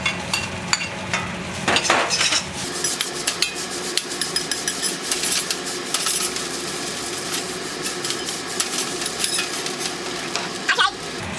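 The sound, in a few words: adding kimchi and pork to a pan for kimchi fried rice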